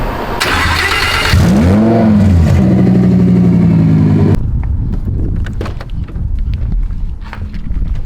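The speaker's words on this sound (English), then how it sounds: "I'm doing a little merch delivery in the Lambo today. Start it up." A twin-turbo Lamborghini Huracan starts with a whirring crank and a loud bark, settles into a rumbling idle and rises in revs with a rising, falling whine, then cuts off sharply into quieter outdoor background noise.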